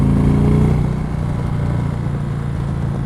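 Steady wind roar from riding an Indian Chieftain motorcycle with the windshield lowered, a dense, loud rush blended with a low engine hum, continuous and unbroken throughout.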